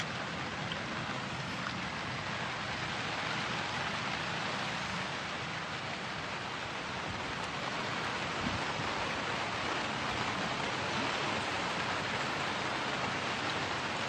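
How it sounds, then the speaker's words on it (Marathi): Steady rain falling during a monsoon trip on the way to a village, a constant dense hiss of drops that holds at an even level throughout with no voices. "पाऊस पडतोय"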